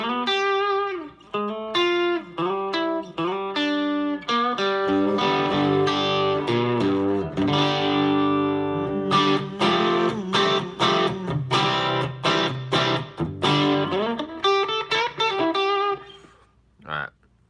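Distorted electric guitar through a Headrush amp modeler plays a continuous run of chords and single notes, with a roomy small-theater reverb tail rather than a dry sound, ending abruptly.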